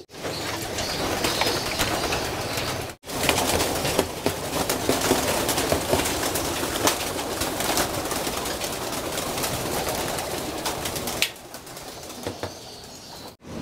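Pigeons in a backyard loft and aviary coo and flutter, with soft throaty calls and bursts of wing flapping running on close and steady, broken by two brief silent gaps.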